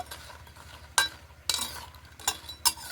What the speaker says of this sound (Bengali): একটু নেড়ে চেড়ে ওলট পালট করে নেব।